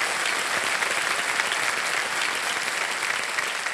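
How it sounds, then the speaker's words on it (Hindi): Continuous, dense clapping from a studio audience on the Hindi quiz show KBC fills the whole moment, even and sustained with no voices above it. "तालियां बजती रहें"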